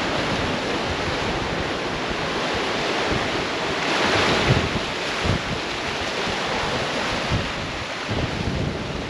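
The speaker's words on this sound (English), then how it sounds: "Now as I'm standing here, the wind gusts have literally just picked up right again. You can tell these waves are just coming out of nowhere right now." Waves on Lake Erie roll and break under gusting wind, a loud, close, continuous wash with rougher surges as gusts hit the microphone.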